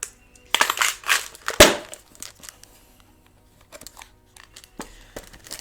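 Small divination charms are handled and shaken: a close burst of rustling, clattering jingles in the first two seconds, then sparse light clicks and taps with quiet gaps.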